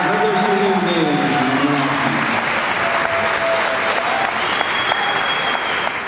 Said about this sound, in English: How about a big round of applause for our 5 seniors in their last regular season game?